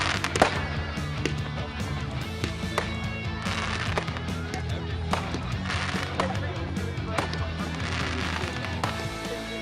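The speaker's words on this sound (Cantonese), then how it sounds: "今晚咧係呢個 bonfire night 咁咧周圍咧其實都會有煙花表演㗎。" Bonfire Night fireworks going off around an outdoor setting, a steady crackle and scattered bangs, some sharp near pops among more distant rumbles, with people talking throughout.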